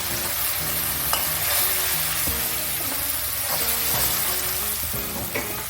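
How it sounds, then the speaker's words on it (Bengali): Ginger-garlic paste fries with browned onions in hot oil, a constant close sizzle broken by rhythmic stirring scrapes. "আদা রসুনটাকে ভালোভাবে ভাজবো পেঁয়াজের সাথে।"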